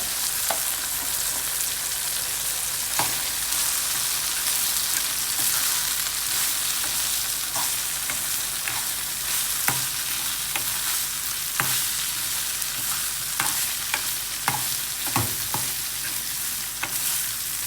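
Small native shallots sauté with grated coconut in coconut oil in a pan, a continuous loud sizzle and fry broken by frequent sharp clicks of a spoon stirring and scraping the pan.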